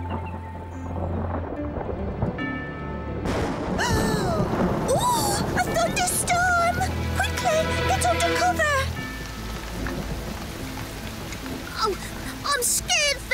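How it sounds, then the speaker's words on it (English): Rumbling thunder and rain of a summer storm in a children's cartoon, with cartoon voices and a whimsical musical score playing over the storm. "I hear thunder."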